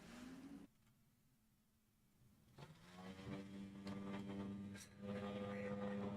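Loud engine drone of leaf blowers running right outside a window, with a steady sustained hum that drops briefly then swells back to full strength and stays harsh and continuous.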